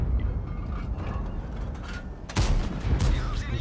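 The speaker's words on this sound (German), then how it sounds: "Das auf den T10 ist ein schwerer Schuss." A tank cannon fires in the video game World of Tanks during a heavy shot at a T10: a single loud sharp blast with a rumbling tail, rising over a constant engine and battle din.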